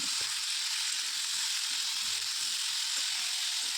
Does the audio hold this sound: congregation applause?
no